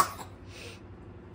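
A single short cough bursts out at the start, then fades into quiet room noise with a faint breathy trailing sound.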